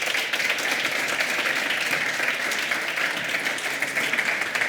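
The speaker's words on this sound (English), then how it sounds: "if I can ask for a big round of applause for them." A large multilingual conference audience on a microfinance and worker-buyout panel applauds steadily, a dense, even wash of clapping at constant loudness with no voices over it.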